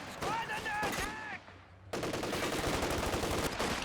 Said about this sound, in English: Sniper looking to get a few shots on as he retreats